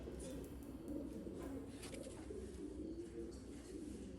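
A homing pigeon in a loft coos softly in low repeated murmurs, faint and close, with a few higher chirps and rustles around it.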